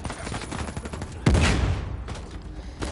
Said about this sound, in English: AK-47, a short rifle.